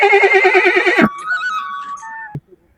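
A black piebald mare gives one loud, close whinny, a shaking high call that breaks off after about a second into faint trailing tones and a short snort.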